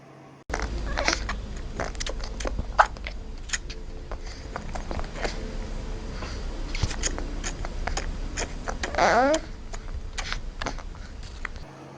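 A human voice imitates a baby slurping on a laptop, making a busy run of wet smacking, clicking and sucking mouth sounds, close and steady for the whole stretch, with a brief louder burst near the end.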